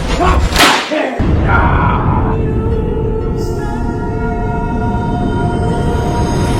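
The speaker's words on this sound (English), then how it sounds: "take the whip off of its holster" Whip crack sound effect: one sharp snapping crack and a brief whoosh near the start, followed by a ringing, sustained musical tone.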